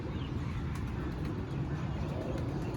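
Pigeons cooing among flocks kept by pigeon fanciers in Jhelum, low soft coos blended into a dense, constant outdoor din with faint chirps.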